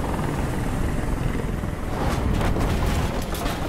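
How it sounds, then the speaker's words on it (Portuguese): A helicopter in the video game Detroit: Become Human thrums loudly and continuously with a deep rotor rumble, with some sharper whooshing bursts toward the end. "Este helicóptero atrapalhou tudo."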